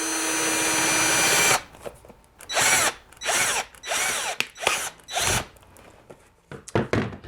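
A power drill bores into a book box in several loud, close bursts, each separated by short pauses, after an opening stretch of steady, broad whirring.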